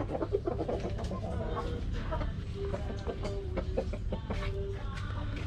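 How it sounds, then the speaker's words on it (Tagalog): Two roosters cluck and call steadily and nearby in a backyard poultry setting, the calls rising repeatedly over a constant low rumble of background noise. "Ipapahuli natin yung 2 lalaking manok."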